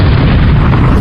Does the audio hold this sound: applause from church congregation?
no